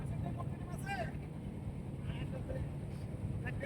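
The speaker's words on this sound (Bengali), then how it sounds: "এইটা হচ্ছে আমাদের ট্রলার।" A motorized trawler on the open haor waters near Mithamoin, Kishoreganj, gives off a faint, steady engine drone mixed with wind, while people talk nearby.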